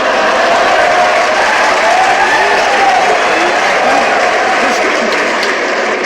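Loud, continuous audience applause with some cheering after a joke at a Hindi satirical poetry performance, a dense unbroken wash of clapping throughout.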